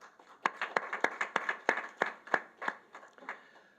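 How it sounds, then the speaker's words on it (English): Sparse, quiet clapping from a small audience at a special session, a dozen or so distinct claps in an uneven rhythm that fades out. "So let's give all of them a round of applause."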